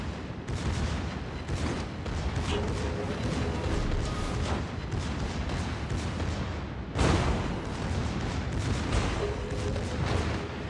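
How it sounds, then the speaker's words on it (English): Anti-aircraft guns on a warship in a video game fire in a dense, continuous barrage of loud, close blasts, with a heavier burst near the end and no talking over it. "Provide anti-aircraft fire support."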